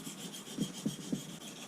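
A 1095 steel blade is drawn across a fine silicon carbide stone on a bench, making soft rhythmic scraping strokes, three distinct passes about a quarter second apart, close and quiet with no voices.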